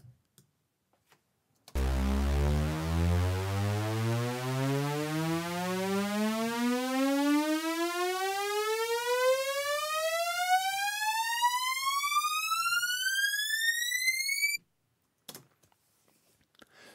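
Synth riser built in Logic Pro X, a bright buzzy tone with stacked harmonics sweeping steadily upward in pitch for about thirteen seconds before cutting off abruptly, loud and alone with silence around it.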